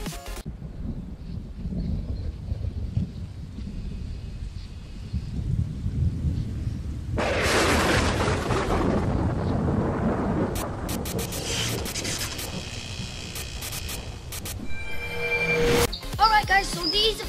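A lightning strike effect: a heavy crack and rumble of thunder with pouring rain, loud and sustained, followed by sharp crackling bursts over a voice talking.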